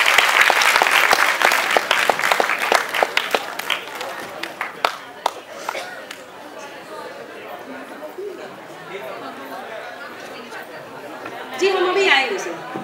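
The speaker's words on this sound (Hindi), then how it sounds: "बार तालियां फिर से इनके लिए बजा दीजिए।" Loud audience applause at a foundation day and award ceremony. It begins as dense clapping, breaks into sharp scattered claps, then thins into crowd chatter, with a brief swell of clapping near the end.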